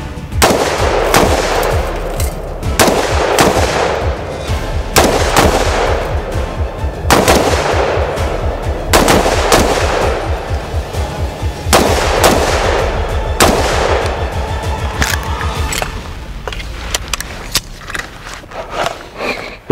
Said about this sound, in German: Sag mal, wie viel Schuss habt ihr dann abgegeben?